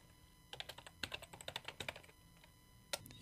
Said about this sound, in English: I'm going to type some text.